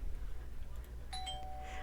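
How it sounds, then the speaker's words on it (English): A doorbell rings once in a horror story, a clear electronic ding with a ringing tone that fades out after a low, rumbling ambient bed. "After you complete changing the diapers, the bell rings."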